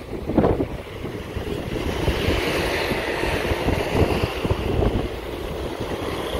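Strong typhoon wind roars across a seaside wharf near a fort in Iloilo City, a loud continuous gusting rush with buffeting on the microphone and waves churning beneath, no voices.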